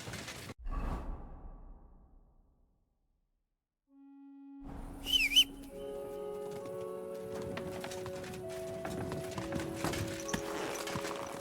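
Horse hooves clip-clopping in the medieval video game Kingdom Come: Deliverance II, a soft, steady run of hoofbeats that starts after a short silence, with a swish and light ambient sounds around it.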